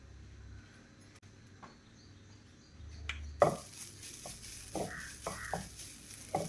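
Grated coconut, blended in a mixer, dry-roasting in a pan for Kerala theeyal: quiet at first, then soft scraping stir strokes and light clinks against the pan start up partway through.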